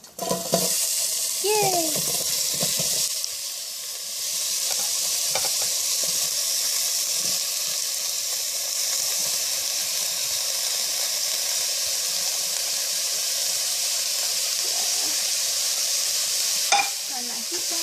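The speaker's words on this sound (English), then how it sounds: "I'm going to add my onion and be prepared for the sizzle." Chopped onion dropped into a hot pan for sautéed vegetables, sizzling loudly and hissing steadily close up, with brief stirring clatter early on and a short excited voice near the start.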